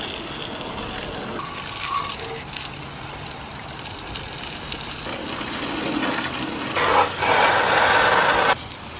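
A garden hose sprays water over the engine bay of a Honda S2000, a steady broadband gush that swells louder and harsher near the end as the spray hits closer, with no talking.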